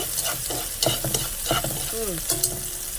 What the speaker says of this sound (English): So you get all stirred well and mix well